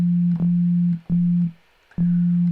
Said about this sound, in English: it starts with the sine waves, classic